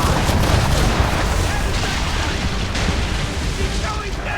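A ship's cannons fire in Assassin's Creed III, a dense, booming volley of heavy blasts rolling together over loud battle noise.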